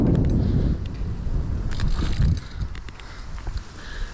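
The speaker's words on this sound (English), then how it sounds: "luckily it's windy" Wind blowing outdoors at a Vermont skatepark, gusty blustery rush buffeting the microphone, strongest early then easing to a softer steady breeze, with scattered light clicks and knocks.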